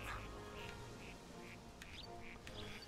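The Ducklett Pokémon cries in New Pokémon Snap, a string of soft, repeated quacking calls at an even rhythm, quiet and faint behind a steady background.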